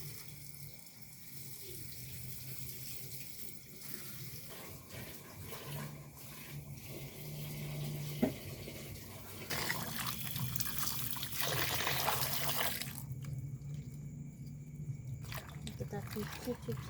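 Papaya leaves are washed under a running kitchen tap, a steady close stream of water with splashing and trickling that swells midway, while a person talks over it.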